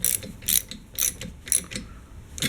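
A ratchet wrench tightens the cylinder head bolts on a KTM 50 dirt bike, clicking in quick bursts of about five strokes, up close and clear.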